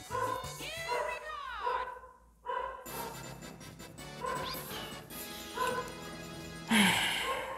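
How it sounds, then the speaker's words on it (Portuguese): A dog barks and whimpers in short, agitated bursts during a Mario Party 2 minigame on the Pirate Land board, mixed with crashes and whacks from the game. "Tem um cachorro latindo desesperadamente aqui"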